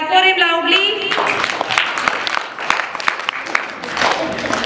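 At a school English poem recitation competition, an audience of students and teachers breaks into applause for a class 8 reciter, a dense, steady clatter of many hands following a brief spoken announcement.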